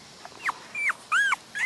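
A young black female puppy whimpers close by, giving several short high rising-and-falling whines separated by brief pauses, with no talking.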